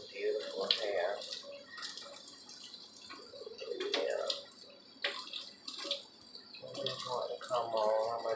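Running water from a tap or bath while a baby's hair is washed for a first shampoo, with splashing and dripping bursts beneath a voice talking throughout.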